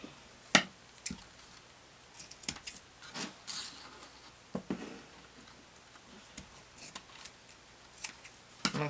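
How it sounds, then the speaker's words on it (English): Scissors snipping pink ribbon for an altered journal craft, a series of faint, sharp clicks and cuts scattered irregularly over a quiet background. "I'm just going to cut 2 pieces of ribbon a little bit wider"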